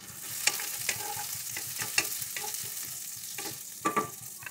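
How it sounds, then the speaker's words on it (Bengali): Two white cardamom pods and mace sizzle in hot oil, with a steady low frying hiss and repeated light scrapes of a spoon stirring the pan, close and fairly quiet. "এইগুলো আমি সুন্দরভাবে ভেজে নেব, হালকা নাড়াচাড়া করে ভেজে নেব।"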